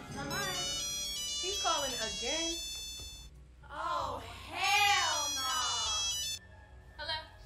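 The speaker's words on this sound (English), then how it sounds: "Whose phone is that?" A mobile phone ringtone plays a repeating melodic pattern, close and fairly loud, with people talking over and between the rings.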